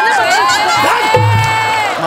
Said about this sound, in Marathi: त्यांचा जोरदार टाळ्या वाजून आपण खरंच स्वागत करूया